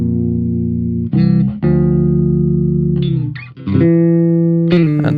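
Bass guitar with its high channel slightly distorted for attack, playing sustained loud notes with gritty upper edges and brief gaps between phrases, heard alone.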